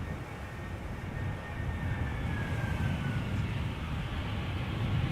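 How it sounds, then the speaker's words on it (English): An Air France airliner arriving from Paris Charles de Gaulle at Amsterdam Schiphol, its engines giving a broad, steady roar with a faint whine that grows slightly louder, heard at a distance outdoors without talk. "This is Air France Air Baguette arriving from Paris Charles de Gaulle, flight 1640."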